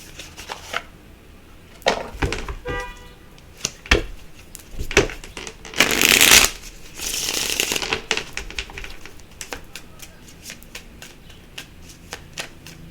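A tarot deck is shuffled close by with quick papery riffles and taps, irregular clicks, and one louder, longer flurry of shuffling midway through.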